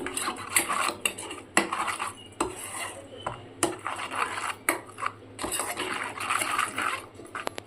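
A spoon scrapes and clinks repeatedly against a bowl while paneer bhapa ingredients are mixed, the close, irregular taps and rubs coming in quick bursts with no speech.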